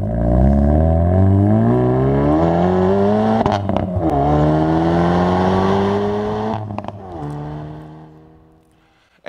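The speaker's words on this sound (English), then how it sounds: "Instant power, thrilling torque, and just listen to this exhaust note." Hyundai 2019 Veloster N high-performance engine revving hard, a loud, sustained exhaust note rising in pitch, dipping, then climbing again before fading away near the end, with no talk.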